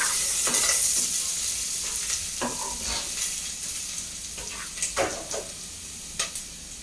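Onions fry with mustard seeds and curry leaves in a pan for a Tamil potato poriyal, sizzling steadily while a spoon scrapes and stirs in sharp intermittent strokes, close by with no talking.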